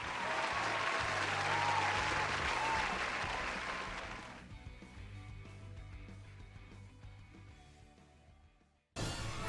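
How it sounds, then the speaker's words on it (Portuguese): Podcast applause: a dense burst of clapping that holds strong for several seconds, then thins and fades to a faint patter, before a short, sharp burst cuts in at the very end. "palmas para o Kira"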